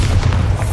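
Bombarda explosion spell in Hogwarts Legacy as a short, loud, low boom filling the whole moment, dense and heavy with no voices.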